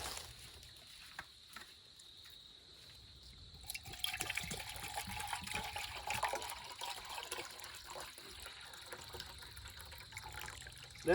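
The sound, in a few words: pouring drinking water into a cup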